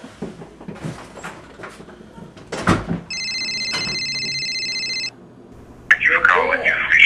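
A telephone rings in a room, an electronic ringing burst lasting about two seconds in the middle, surrounded by people talking and some clunks and handling noises.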